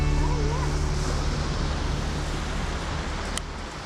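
Sea water draining back off a rocky shoreline, a steady wash of surf under strong wind buffeting the microphone outdoors, with no talking.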